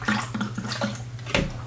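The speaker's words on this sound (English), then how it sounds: "Now I'm gonna pour some water in here." Water pours into a container while a horseradish preparation is made, giving a short series of splashing, gurgling bursts over a low steady hum.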